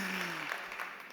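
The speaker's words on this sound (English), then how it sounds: "Okay, big applause then for Johannes" Brief applause from the audience at a startup competition for digital and tech solutions, a soft wash of clapping lasting about a second with a faint low tone fading in the background.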